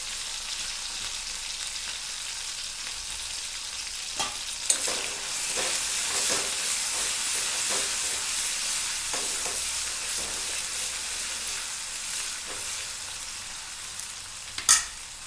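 Cumin and garlic-ginger paste fry in a pan for a cauliflower bhaji, making a steady sizzle broken by repeated stirring scrapes and a few sharp clinks of a spoon against the pan, with no talk.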